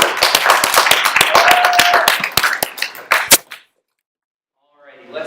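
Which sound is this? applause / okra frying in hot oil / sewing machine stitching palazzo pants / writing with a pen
applause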